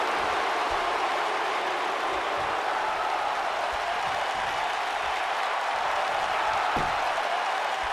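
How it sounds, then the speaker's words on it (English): A crowd at a wrestling show keeps up a dense, steady roar, a mix of cheering and booing heard at a distance throughout. "He's got some fans cheering, but there's a lot of them booing him."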